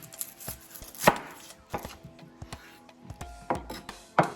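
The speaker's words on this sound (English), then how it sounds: "the next thing I want to do is get some vegetables chopped up" A knife chopping onion for grilled veggies, with sharp separate cuts at an irregular pace, a few louder strokes standing out, close and clear with no talking.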